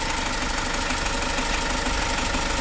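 A diesel common-rail engine idles after injector servicing and cleaning of the pressure sensor, rail and pipes, a dense, steady rattling clatter with even knocking, close and loud with no voices.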